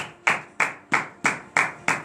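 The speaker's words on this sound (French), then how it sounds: "donnez de vive acclamation à notre Seigneur Jésus." Rhythmic clapping in acclamation from a congregation at a morning prayer service in Benin, six sharp, evenly spaced claps about a third of a second apart, close and distinct.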